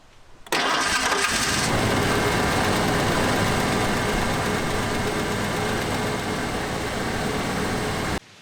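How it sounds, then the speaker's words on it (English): A car engine runs steadily at idle after an oil change, starting with a short burst of cranking and then a continuous, loud, even hum that carries on without pause until the end. "now that we've had the engine turn on and run over for a minute"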